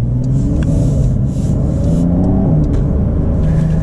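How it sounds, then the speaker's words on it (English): A Porsche 992 4S accelerates hard from inside the cabin, the engine rumbling loud and steady through a few quick upshifts into third gear, with no talking. "we just had some quick upshifts there, get us into 3rd"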